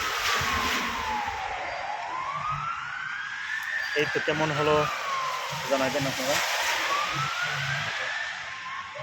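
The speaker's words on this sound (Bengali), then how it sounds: "অ্যাম্বুলেন্স চলতেছে এরকম" An ambulance siren wails, sweeping up and down loudly in long rising and falling cycles, while someone speaks over it, in Saudi Arabia during rain.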